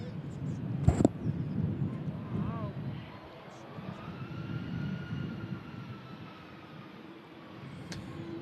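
A Lufthansa jet taxis on an airport airfield, with a broad, distant engine rumble and a faint rising whine that swells and fades over several seconds while a person talks nearby.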